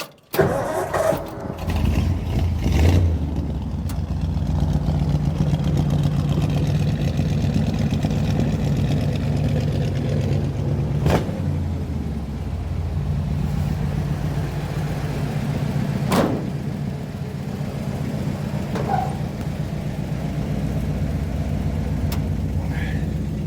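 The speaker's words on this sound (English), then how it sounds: "let's see if the thing will fire up here" A classic car engine is started with a brief crank and catches, then settles into a loud, steady running idle close by for the rest of the time, with a few faint knocks and scattered voices in a shop.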